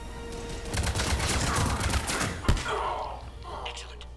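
Rapid bursts of automatic gunfire and impacts in the Mass Effect 3 video game as a pod comes under fire, a dense rattling volley with a heavy thud midway, while a voice speaks over the action.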